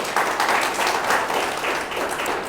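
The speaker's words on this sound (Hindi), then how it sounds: "एक बार जोरदार ताली बजाओ इनके लिए" Loud, dense applause from an audience at a network marketing training session, continuous and steady for a couple of seconds with no talk over it.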